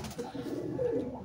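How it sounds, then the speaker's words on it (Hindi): Domestic pigeon cooing close by, a short run of soft, throaty rolling coos in a loft setting. "बहुत आला कबूतरी है"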